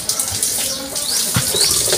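Water gushes steadily from a faucet on a water pump setup, a loud, continuous splashing hiss with no talk.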